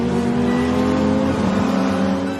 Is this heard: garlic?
no